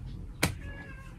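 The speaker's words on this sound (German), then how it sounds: "Jetzt kommt der Kater, Stippvisite" A tomcat lets out one short, close meow over a low indoor background, the single call standing alone with no talk around it.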